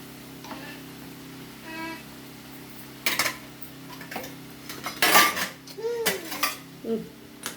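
A knife slicing rolled chapati on a plate, giving a few sharp clinks and scrapes against the dish over a steady background hum, with a faint voice briefly audible.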